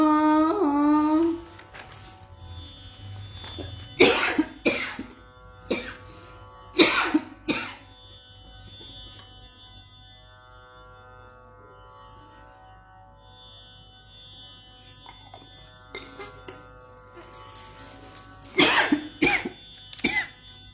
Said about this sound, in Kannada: ಸ್ವಲ್ಪ ಕೆಮ್ಮು ಬಂದ್ಬಿಡ್ತು, ಸಾರಿ.